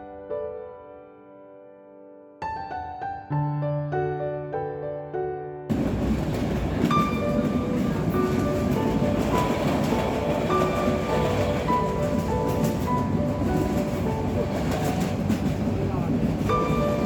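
Train journey from Noakhali to Dhaka in winter, with a station stop at Bajrabazar: the steady rolling rumble of a rail carriage runs on and on, close and loud, after a few seconds of a calmer opening.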